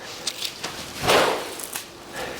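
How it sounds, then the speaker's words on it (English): A Turbo Sparkler yo-yo gives a whooshing, rasping swell that rises and fades, with a few lighter clicks around it, close and without speech. "The Turbo Sparkler is a great yo-yo for an interesting sound effect."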